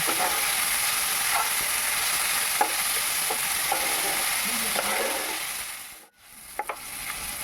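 Steady frying sizzle with a spatula scraping and stirring in a pan, a brief drop to near silence, then sizzling and stirring resume.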